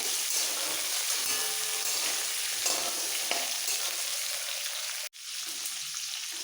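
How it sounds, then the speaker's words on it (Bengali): Potato and papaya pieces fry in hot oil, giving a steady, close sizzle with occasional stirring. A brief sharp drop near the end is followed by the frying carrying on. "আলু আর পেঁপেটা একটু ভেজে নিতে হবে মশলা দেওয়ার আগে"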